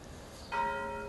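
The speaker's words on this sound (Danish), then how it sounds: "Jeg starter hver morgen kl. 7:30 med at ringe solen op med den store klokke." A large church bell is rung at 7:30 in the morning, and a single struck tone begins halfway through, ringing on with a clear, sustained decay over a faint background hum.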